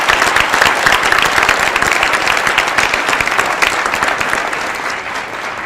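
A dense, loud round of applause from an audience at a senior celebration of excellence honoring student presenters, steady clapping sustained throughout with no talk.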